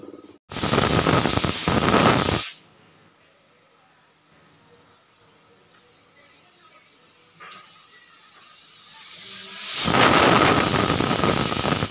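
A pressure cooker cooking pointed gourd hisses out steam in two loud, broad bursts, one near the start and one at the end, with a quieter steady hiss between them.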